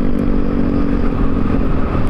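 A motorcycle fitted with a rebound-adjusted front shock rides along a smooth road, its engine a steady, close, continuous drone mixed with low wind rumble throughout.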